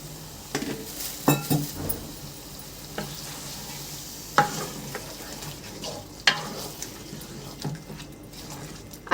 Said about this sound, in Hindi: अब मैं इसमें यखनी ऐड करूंगी